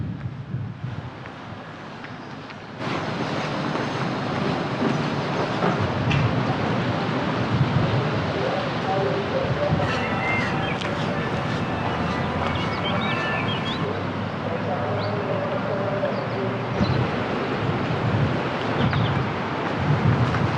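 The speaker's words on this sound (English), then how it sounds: "It was a very windy day. It was really tricky to capture the sound," Strong wind buffets the microphone throughout on a very windy day while hiking across Tenerife, a loud continuous low roar with gusting surges and no voices.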